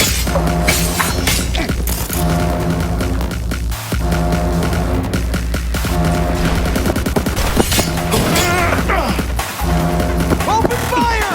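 Dense, continuous gunfire in the video game Cyberpunk 2077, with rapid automatic bursts and booms filling the scene, while voices shout over the combat.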